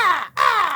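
A man vocally imitates a crow's caw, two harsh, nasal caws in a row with a brief gap between them, loud and close with no other sound.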